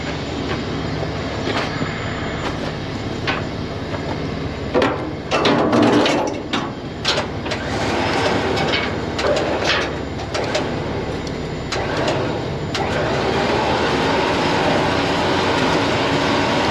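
A trailer tongue slides underneath a camper on a step-deck transport rig, producing repeated metallic scraping, squealing and clanking bursts, loud and close, with quieter rumbling stretches between.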